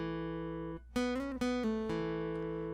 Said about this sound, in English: we have this cool little slide riff we're going to play